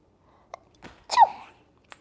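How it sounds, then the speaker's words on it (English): A single sharp human sneeze, close and loud, preceded by a few small breaths and followed by a brief trailing sound, in an otherwise quiet indoor room. "Had to sneeze, excuse me."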